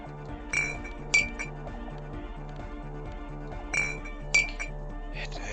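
In the video game Disco Elysium, a container gives off glassy clinks: two separate pairs of bright, ringing chinks arrive a few seconds apart over a steady looping low musical hum, clear and near.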